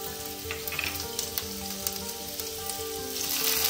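Cumin and ginger sizzling steadily in hot oil as a tempering for Kanchipuram idli batter, a loud, close, crackling hiss throughout with no voices.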